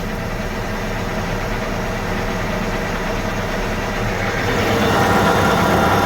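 A tractor engine runs hooked up to a grain bag, its loud, steady mid-pitched drone with a knocking vibration building slightly louder toward the end, no voices.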